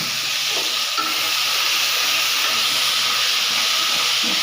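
Ground masala hitting hot oil for a paneer curry, a loud, steady sizzle and hiss that fills the clip without pause, close up and with no talking.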